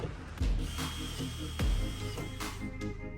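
Ratchet wrench driving a self-threading bolt into soft aluminum on a tritoon boat build, close clicking strokes with a couple of heavier thumps, a short burst of mechanical ratcheting without talk.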